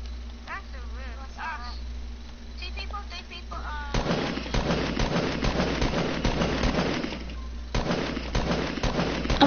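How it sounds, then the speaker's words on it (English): Gunfire in a video game played with school friends, with a dense run of sharp shots starting midway and continuing, loud over background game noise, while players talk over it. "I'm already shooting."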